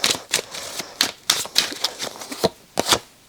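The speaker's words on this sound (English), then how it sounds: "I'm really bad at shuffling again today" Tarot cards shuffled by hand in a quick, uneven run of crisp riffling flutters and soft slaps, close and fairly loud with no talk.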